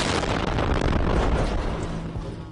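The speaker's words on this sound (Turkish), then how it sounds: "Ukraynalı direnişçileri bombalayan tank bir el yapımı patlayıcının üzerinden geçiyor." A blast from an improvised explosive device going off under a Russian tank during street fighting in Mariupol, a loud, sustained boom with rumbling debris that slowly fades over a couple of seconds.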